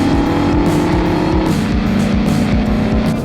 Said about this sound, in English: We're gonna see how the Mustang EcoBoost handles